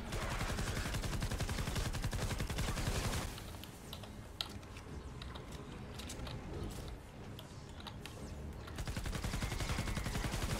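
Grave Digger assault rifle firing in Fortnite Save the World, rapid sustained automatic bursts at close range, with a pause of quieter clicks and shots before the dense fire resumes.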